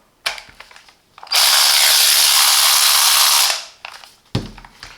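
A Parkside 12V PAR 12 B1 cordless ratchet whirs loudly for about two seconds in one steady burst, with brief clicks and handling noises before and after.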